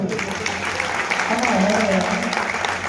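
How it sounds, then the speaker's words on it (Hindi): Steady, dense audience clapping at a devotional gathering, a continuous wash of many hands without pause, with a faint voice audible beneath it. "एक बार आनंद आया तो एक बार ताली बजा दो जोर से"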